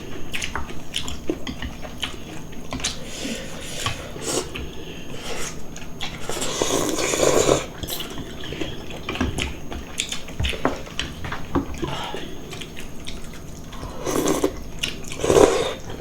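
A couple eats a home-cooked meal of chicken kalguksu noodles, with soft slurps, wet chewing and occasional louder bites and squishy sounds close to the microphone, no talking.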